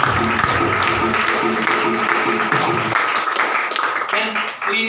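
Audience applause at a stage event fills the whole stretch, dense and steady, mixed with loud music or voices over a busy hall.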